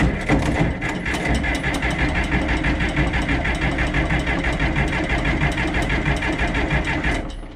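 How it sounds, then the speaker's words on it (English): A 52-year-old tractor that had not run in years has its engine running, a loud close mechanical chug with a fast steady rhythm that holds evenly for several seconds before cutting off abruptly. "let me sit you guys down and we'll see if we can't start her up"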